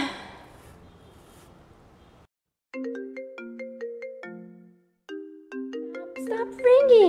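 A melodic phone ringtone plays two repeated phrases of bright chiming notes, preceded by faint background noise and followed by a voice.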